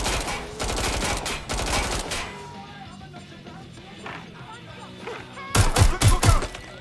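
Rapid bursts of video-game gunfire in Watch Dogs: Legion, loud clattering volleys at the start and again near the end, separated by a quieter stretch of background game sound and faint voice.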